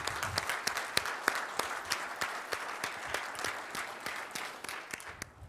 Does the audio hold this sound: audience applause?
yes